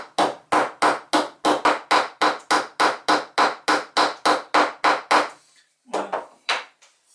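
A piece of bamboo for kitchen tongs having its end crushed, heard as a rapid, regular series of about sixteen loud, close, sharp strikes, then a short pause and a few more blows.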